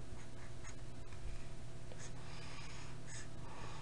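Pen or marker writing an equation by hand, scratchy strokes and short taps in quick irregular bursts, close and clear with no talking.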